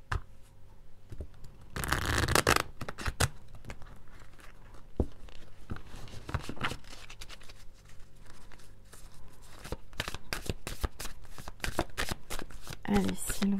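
Tarot cards shuffled close up in repeated riffles, slaps and crisp flicks, with a louder burst early on and steady card handling after; a voice talks quietly in between.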